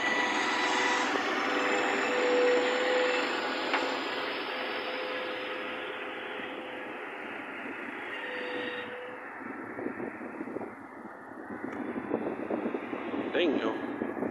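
Mercedes Actros heavy truck hauling a wind turbine part for a wind farm near Wildervank, Groningen, a steady rumbling engine and rolling drone sustained throughout, fairly close, with people talking over it.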